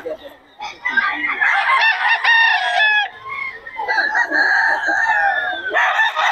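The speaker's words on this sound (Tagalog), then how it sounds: "Murang-mura mga manok ni Boss Joey" Several chickens and roosters calling together, loud and close, with repeated crowing and clucking layered over one another, no talking.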